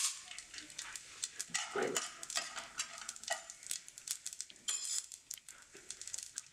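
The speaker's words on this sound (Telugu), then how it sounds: "నేను ముందుగా ప్యాన్‌లో ఒక చెంచా నూనె తీసుకున్నాను. ఇందులో నేను ఫస్ట్ పోపు సామాన్లు అనేవి వేసేసుకుంటున్నాను." Mustard seeds, cumin and urad dal tempering in a spoonful of hot oil in a pan, a busy crackle of sizzling and popping with scattered clinks of a spoon against the pan, close and fairly loud.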